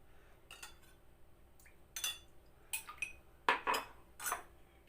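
Whisking lemon juice and olive oil into a salad dressing in a bowl gives a handful of clinks and scrapes of a utensil against the dish, spaced irregularly and fairly close, with no talk over them.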